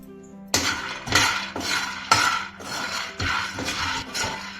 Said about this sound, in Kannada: ಒಂದು ಫಾನ್ ಇಟ್ಕೊಂಡು 1 ಬೌಲ್ ಕಡಲೆ ಬೀಜ ಇದೆ, ಇದನ್ನ ಚೆನ್ನಾಗಿ ಫ್ರೈ ಮಾಡ್ಕೊಳ್ಳೋಣ.